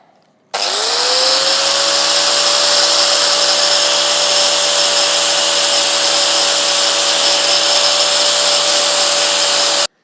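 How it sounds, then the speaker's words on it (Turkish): Angle grinder smoothing the sharp cut edges of a plastic fermenter, a loud steady high-pitched whine that starts abruptly and runs continuously for about nine seconds before cutting off, with no talking. "Biz sakatlık çıkmasın diye şuraları biraz taşlayacağım."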